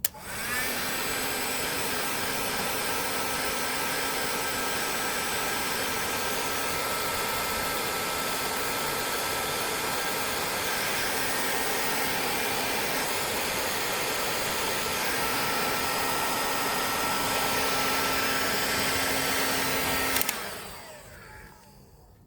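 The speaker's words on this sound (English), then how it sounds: "You hit it with the heat gun, the whole thing shrinks, including the metal tab in the middle clasp," A heat gun blows steadily and loudly for about twenty seconds while shrinking a heat-shrink connector over wiring for an LED light upgrade, a constant close whooshing hum with no talk, cutting off abruptly at the end.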